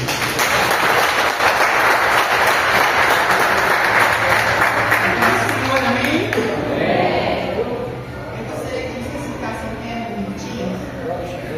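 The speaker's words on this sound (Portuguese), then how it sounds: "Aplauda a palavra de Deus em nome de Jesus." A congregation applauds during an evening church service in Portuguese, a loud wash of clapping for several seconds that fades out, leaving quieter room sound with voices.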